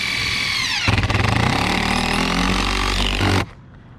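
A power driver revs up and sinks a long cap screw through 2.5 inches of ISO board into an EPDM rubber roof, a loud close whine with a pulsing rattle that rises and then cuts off.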